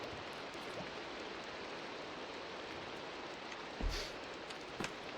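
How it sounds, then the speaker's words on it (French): Steady, even Minecraft rain hiss fills the clip, with a couple of brief louder taps near the end. "On a la pluie"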